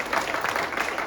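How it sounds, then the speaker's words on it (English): Audience applause at a school's tenth anniversary celebration honoring a teacher, a brief burst of dense, steady clapping heard close and fairly loud. "Everyone give a large round of applause."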